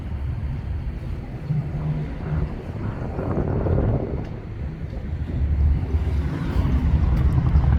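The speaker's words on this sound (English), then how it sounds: "here comes the helicopter." A helicopter's rumbling engine approaches and grows louder, mixed with wind buffeting the microphone.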